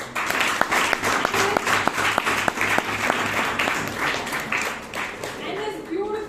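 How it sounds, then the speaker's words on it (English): Applause from an audience at a Toastmasters meeting in Bangalore, a dense patter of clapping holding steady for several seconds, with a low hum running beneath it and a voice speaking over it. "let's give a huge round of applause to Dr. Rajdeep Mandal."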